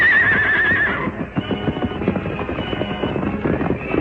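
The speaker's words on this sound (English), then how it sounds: "the masked man swiftly loosened the reins of the outlaws' horses and sent them galloping away" Outlaws' horses in a Lone Ranger radio-style drama: a loud, close whinny opens, then a steady rumble of hooves galloping away under a busy, dense mix.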